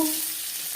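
Slit green chillies dropped into hot oil after cumin seeds, giving a brief, steady broadband sizzle with an initial burst that settles into continuous frying hiss.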